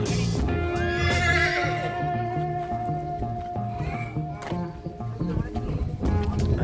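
A horse whinnies loudly and shakily near at hand in a stable, with hooves shuffling and people talking in the background.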